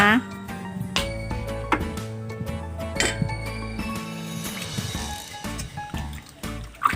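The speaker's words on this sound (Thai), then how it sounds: "คนส่วนผสมให้เข้ากันเลยจ้า" A spoon stirs a homemade plant-tonic mixture in a container, giving repeated bright clinks and light liquid sloshing at close range, with sustained tonal sounds running underneath.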